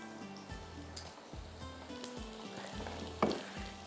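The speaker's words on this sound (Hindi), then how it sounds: "तो मैं यहाँ पर निकालती हूँ उसको और ऊपर तड़का लगा देती हूँ।" Hot tarka of oil and lightly browned onion sizzles as it is poured over karhi cholay, a close, crackling frying hiss with stirring clinks and a sharp spatter burst partway through.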